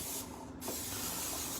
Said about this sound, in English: you can just take your Pam and just spray the top of your bread with it